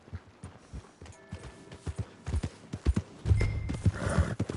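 Horses at a stable in a PS4 video game, with hooves clip-clopping in an uneven rhythm and a neigh rising near the end, fairly close and free of talk.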